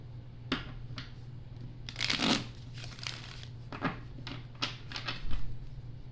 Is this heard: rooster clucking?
no